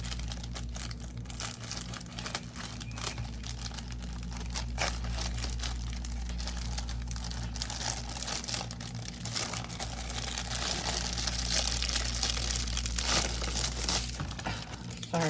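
Plastic packaging around a pair of silicone molds crinkles and crackles steadily while being cut open, a close, continuous rustle with tearing crunches that grows slightly busier toward the end.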